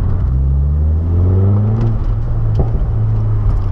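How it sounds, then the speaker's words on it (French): Hyundai Genesis Coupe underway, its exhaust rumbling loud and close while the engine revs rise and fall, with a sharp crackling pop from the exhaust partway through. "Et ça pétarade à l'échappement"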